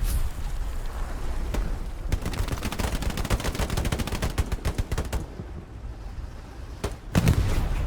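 Dense, sustained machine-gun and rifle fire in the World War II shooter Hell Let Loose during a competitive match, a rattling barrage that thins out and ends in a few scattered shots.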